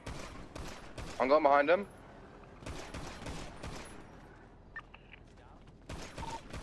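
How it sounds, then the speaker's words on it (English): Bursts of automatic gunfire in GTA roleplay on a NoPixel server, several rapid clusters of sharp shots spread across the moment, close and fairly loud, with a person talking between and over them. "They're shooting us."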